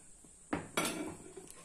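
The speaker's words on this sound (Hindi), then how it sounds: "ये हमने गैस ऑन कर दिया, पैन रख दिया।" A metal pan is set down on a gas stove, giving two quick close clanks about a quarter second apart, followed by a brief rattle that fades.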